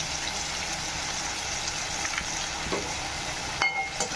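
Masala with chili powder and chopped tomato frying on high flame in a pan for vada curry, a steady soft sizzle throughout with a light scrape of stirring near the end, no talk.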